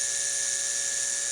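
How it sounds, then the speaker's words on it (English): Small 1/16 inch drill bit spinning steadily while boring a hole in the centre of a Mauser 71/84 rifle barrel band, a thin continuous high whine, faint and unbroken. "This is just a 1/16 of an inch drill bit."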